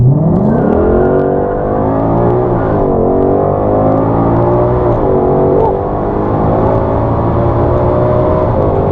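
A 2020 Shelby GT500 launching under launch control in drag strip mode with automatic shifting: a loud, close engine roar climbs steadily in pitch, dips briefly at gear changes, then pulls on without a break.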